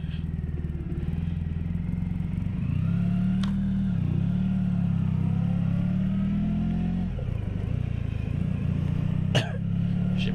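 A motorcycle cruising on a non-motorway road, its engine droning steadily and shifting in pitch as it speeds up and eases off, heard close with wind rumble throughout.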